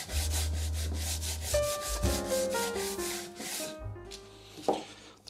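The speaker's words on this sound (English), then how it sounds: "quick sand and then they'll be ready for putting together." Wooden parts get a quick hand sanding, a fast series of rhythmic rasping strokes close by. A few musical notes sound alongside, and the rubbing then slows to a couple of final scrapes.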